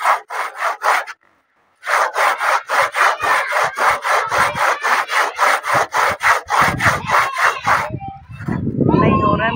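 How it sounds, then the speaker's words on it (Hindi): A hand saw cuts through a dry tree branch in steady, loud back-and-forth strokes close by, with a brief pause early on, then the rapid rasping resumes before ending in a rougher rustle. "ये वाला डाली सूखा हुआ है, इसको हम काट रहे हैं आरी से।"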